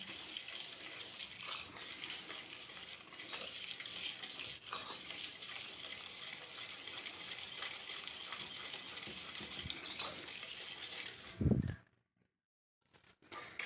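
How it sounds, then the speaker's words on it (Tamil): Batter for an evening snack gets stirred with a little added water, a continuous wet sloshing and scraping close by that runs steadily before a brief knock and sudden quiet near the end. "சேர்த்திட்டு நல்லா கலந்துக்கோங்க."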